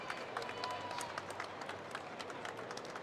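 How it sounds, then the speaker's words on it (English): Steady crowd clapping for competing male athletes at a fitness competition, a continuous moderate-level patter of many hands in a large venue, without a break throughout. "Round of applause from the gear team for these men."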